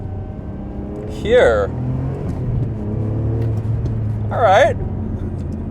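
A Ferrari 575M engine accelerates through its gear shifts, a steady low rumble running beneath close conversation, with brief rising bursts in between.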